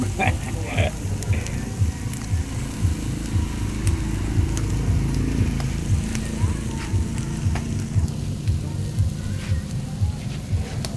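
Grilled milkfish (bangus) sizzling over heat at a Christmas party, a steady crackling hiss with scattered pops under a continuous low background hum.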